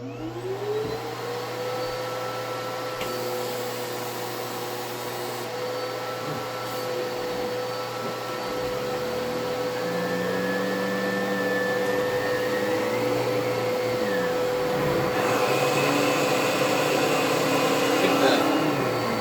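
A new-old-stock Riccar Impeccable canister vacuum cleaner runs with a continuous steady motor whine and hum, its tone shifting slightly as the power nozzle is engaged, loud and close without talk.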